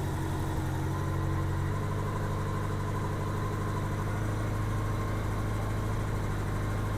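A 1987 Honda GL1200 Gold Wing engine idles during carburetor synchronization, giving a close, steady low rumble with an even mechanical throb that holds constant throughout, without any talking.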